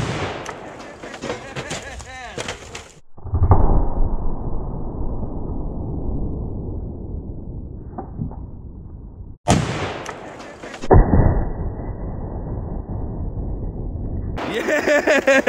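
Firearm shots fired at a toaster outdoors, two sharp loud reports each followed by a decaying rumble, with voices before and after.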